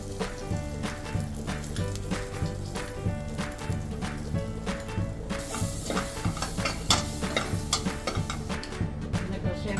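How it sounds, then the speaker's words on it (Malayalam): Dried red chillies and cumin seeds frying in oil for Karnataka-style rasam, a close steady sizzle with crackling pops and stirring, set under a looping background melody. "നല്ല മുളക്, ജീരകം എല്ലാം കൂടെ എണ്ണയിലേക്ക് ഇടുക."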